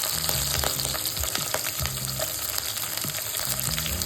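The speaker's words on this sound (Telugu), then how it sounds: "ఇప్పుడు ఇందులోకి ఒక 8 పచ్చిమిర్చిని ఇలా కట్ చేసి వేసుకోవాలి" Eight chopped green chillies fry with curry leaves in hot oil for a puntikura nunekura pickle, giving a steady, close sizzle with occasional stirring scrapes and no voices.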